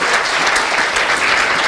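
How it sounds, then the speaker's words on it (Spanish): A church congregation applauds during a Spanish-language sermon, with steady, dense clapping throughout the short stretch and no one talking over it. "Dale un aplauso a la palabra del Señor."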